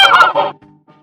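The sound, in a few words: goose honking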